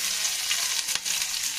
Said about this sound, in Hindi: अब इसमें हम जीरा डाल देंगे थोड़ी सी, ये 2 छोटी चम्मच।